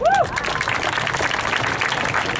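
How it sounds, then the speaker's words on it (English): Audience applause at the opening ceremony of the Pistahan parade in San Francisco, a steady broadband wash of many hands clapping throughout, with a brief whistle or voice inflection near the start. "Let's give another big round of applause for our community Grand Marshals, Phil and Rob."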